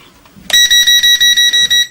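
A drone remote controller for an EACHINE E511S emits a loud, shrill, rapid series of about eight close beeps in an even pulsing rhythm as its camera buttons are pressed.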